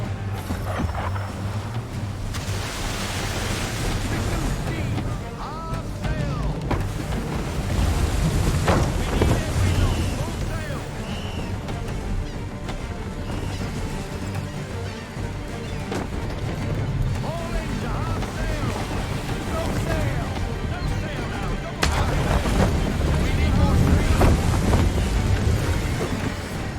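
A sailing ship runs at full sail across open sea in Assassin's Creed III, with steady wind and water rush under creaking hull and rigging sounds, some bursts louder, and voices speaking at times over it.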